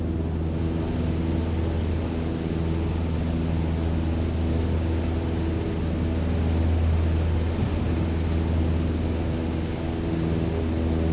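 Simulated aircraft engine in Microsoft Flight Simulator 2020 with all power cut, a steady broadband rumble and whoosh of airflow with low tonal drone, constant and loud throughout, no talking.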